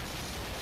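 Dense, continuous rumble of explosions from the arcade-style game Surgical Strike, a loud unbroken wash of blasts with no distinct gaps.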